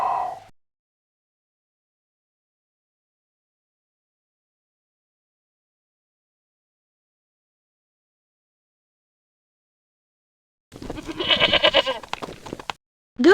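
Goats bleat in two brief bursts, a short call at the start and a louder, wavering bleat near the end, separated by long silence.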